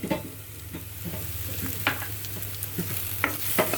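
Yam curry masala paste frying in a pan with spices stirred in, giving a steady close sizzle with soft scraping stir strokes and a few sharper clinks throughout.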